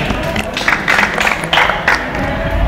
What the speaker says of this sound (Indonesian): tepuk tangan untuk Cak Adi